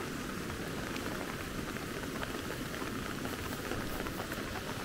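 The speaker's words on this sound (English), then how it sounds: "This is where this creek water enters the swale system." Creek water runs into a swale system after heavy rain, making a steady, dense rush and splash. The sound stays even and close from start to end, with no pauses.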